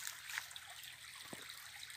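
A small rural spring channel trickles into a creek on a country farm property, a faint, continuous watery babble close by with soft splashes and no voices.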